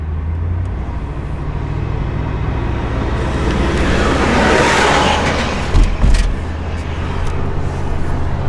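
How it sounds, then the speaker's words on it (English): A Jeep Wrangler engine revs in Sport Plus mode, a loud, sustained low roar that swells midway and gives a couple of heavier surges near the end. "just listen to the motor."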